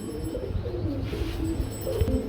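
Several pigeons cooing close by at a seller's loft, soft rolling low coos repeating in a steady rhythm over a faint background hum.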